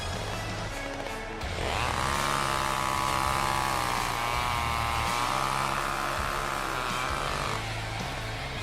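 A chainsaw revs during a wrestling ring entrance in WWE 2K17, a loud, sustained buzzing roar that starts abruptly and holds steady for several seconds over a noisy arena crowd.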